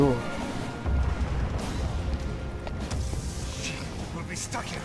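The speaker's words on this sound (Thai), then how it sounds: "เรือก็โดนระเบิดนะครับเรือโดนระเบิด" A boat explosion in the video game Resident Evil Revelations: a sustained, loud roar of deep rumbling and crashing noise with scattered bursts, filling the clip from start to finish.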